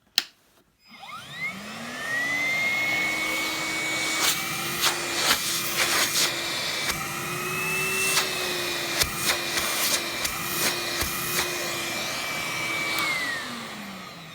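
A Numatic Henry cordless vacuum cleaner starts and runs on its low setting, a steady whirring motor hum with a clear tonal whine that holds throughout. Intermittent sharp knocks and clatters sound on top, and no one speaks.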